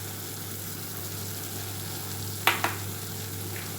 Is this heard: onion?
yes